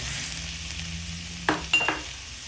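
Garlic frying in chicken oil in a pan, a soft steady sizzle with a few brief stirring scrapes near the end, no voices.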